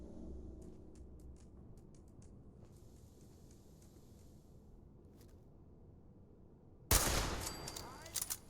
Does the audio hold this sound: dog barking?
no